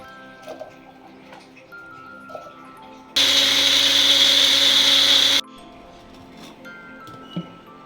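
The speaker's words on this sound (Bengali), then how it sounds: "এবার এগুলোকে জুসারের মধ্যে দিয়ে দিচ্ছি, দিয়ে ভালো করে এটাকে ব্লেন্ড করে নেব।" A juicer blends watermelon for a mojito, its loud, steady motor whir starting abruptly and running for about two seconds before cutting off, with quiet kitchen sounds before and after.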